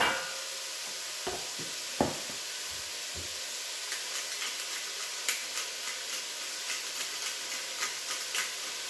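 Ground beef browns in a pan with a constant soft sizzle, broken by a few sharp clacks of a utensil stirring and scraping, close and moderately quiet with no voices.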